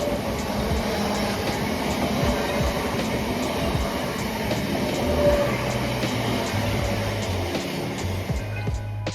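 A Southeastern Electrostar electric commuter train runs with a continuous rumble and rhythmic rail clicks, steady and fairly loud throughout, with no voices.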